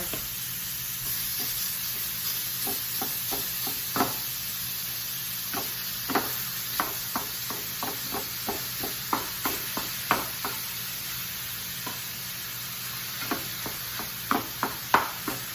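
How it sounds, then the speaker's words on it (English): Ground beef hamburger patties, seasoned with onion soup mix, sizzle steadily in a hot pan while a utensil smashes and stirs them, giving repeated sharp scraping taps over a constant frying hiss; no talking. "Then I'm gonna go ahead and put these hamburger patties in here. I'll smash them up because we don't need patties anymore."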